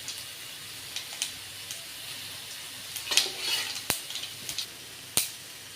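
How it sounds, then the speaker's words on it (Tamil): Mustard seeds and urad dal splutter in hot oil while tempering for a home-style cabbage and milk kootu, giving a steady close sizzle broken by several sharp, scattered pops. "கடுகு பொரிஞ்சிருச்சு"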